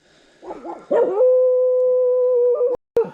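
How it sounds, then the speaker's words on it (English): Dogs outdoors bark at strangers, a few close, loud yips that rise into one long sustained howl lasting over a second, then a sharp cutoff and another short bark at the end. "ignore the dogs that are thinking we're strangers"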